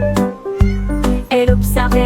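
Kittens meow in a series of short, bright cries over sustained musical notes in a French children's song, close and fairly loud, with no speech.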